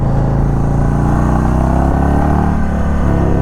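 A 2021 Indian Chief Bobber 116 Stage 2 motorcycle accelerating hard, its big V-twin engine roaring loud and close with a steady rising pitch as it pulls through the revs, no voices.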